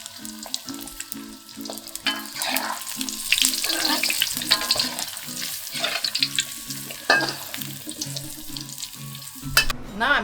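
Meat-stuffed yong tau foo frying face down in a pan, a steady close sizzle with scraping stir sounds and watery splashes, no voices over it.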